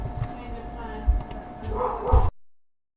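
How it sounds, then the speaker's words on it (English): A pet dog barks indoors in short, sharp bursts, excited at the door, with keyboard clicking and a voice nearby before the sound cuts out abruptly. "my door went off and my dog's just going quite mad"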